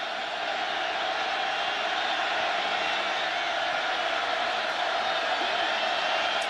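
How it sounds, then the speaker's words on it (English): Football stadium crowd at the 2007 Iowa State vs. Iowa game, a broad, steady distant roar from a huge crowd, constant and sustained throughout. "The crowd again roaring."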